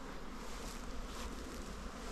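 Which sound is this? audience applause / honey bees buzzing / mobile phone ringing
honey bees buzzing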